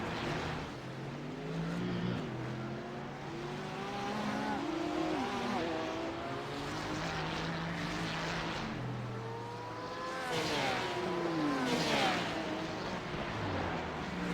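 Several GT3 race cars in a racing video game run the Long Beach street circuit, their engines rising and falling through gear changes as they pass in a continuous, layered stream of revving at moderate distance.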